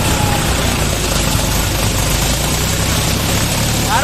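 A tractor engine idles in a farm field in Assam, a steady, loud low rumble with a broad hiss that holds evenly and close throughout.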